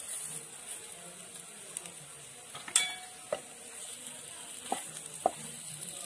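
Frankie filling sizzles faintly as it fries in a pan, with occasional soft clinks and scrapes of stirring over a steady low hiss.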